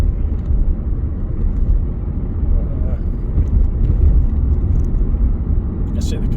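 A steady, low road rumble fills the cabin of a moving car in Scotland that recently had an engine overhaul, with a person talking over the constant drone.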